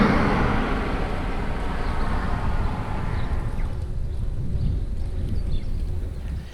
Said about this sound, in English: There's always a little bit more road noise when you're crossing these major roads.